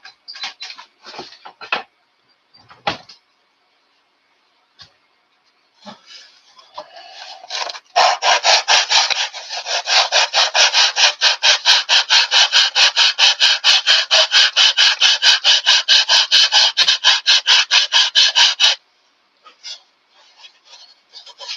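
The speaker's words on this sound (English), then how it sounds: "A little bit of light sanding" Rhythmic sanding of a wooden model aircraft elevator, a steady back-and-forth rasp running for about ten seconds after a few scattered scrapes and taps, close and fairly loud.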